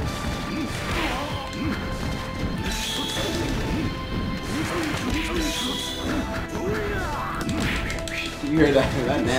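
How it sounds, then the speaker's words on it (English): A whip attack lands in the arcade fighting game SVC Chaos (SNK vs. Capcom), a sharp smashing crack amid dense game effects and music, with people talking over it. "You heard that nasty ass whip shot"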